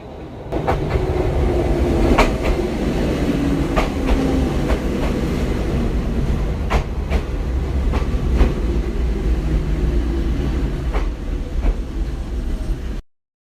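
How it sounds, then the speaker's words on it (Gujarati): A passenger train arrives on railway tracks, rolling in with a loud, steady rumble and a run of sharp, periodic wheel clacks over the rails. No one speaks. "ફાઇનલી 23 મિનિટ વેટ કર્યા બાદ ટ્રેન આવી ગઈ છે"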